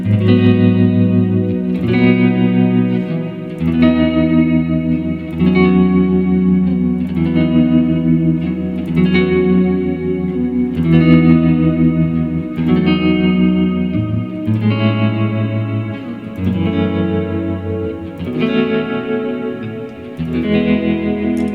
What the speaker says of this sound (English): when you add a reverb to a modulation effect